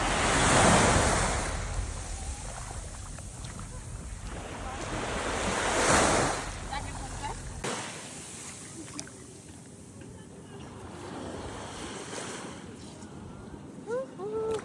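Sea waves surge and wash onto the shore during a fishing outing, swelling and receding in loud, rushing bursts with gusty wind buffeting the microphone. Faint voices are heard briefly.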